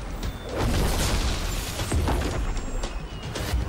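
Fireworks exploding overhead: dense, rumbling booms and crackling bursts roll continuously, loud and full, with no voices.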